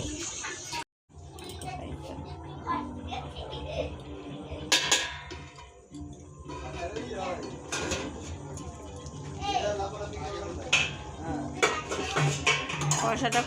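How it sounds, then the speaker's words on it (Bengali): A metal lid set onto a pot of mutton curry, a few clanks and clinks of cookware under a person talking nearby. "এবার ঢাকা দিয়ে দেব ঢাকা দিয়ে স্টিমে রেখে দেব কিছুক্ষণ"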